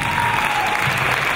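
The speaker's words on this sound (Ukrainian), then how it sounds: "Шановні оплески для нього" Steady audience applause at a charity Christmas carol concert, a short dense burst of clapping from a crowd, moderately loud and unbroken.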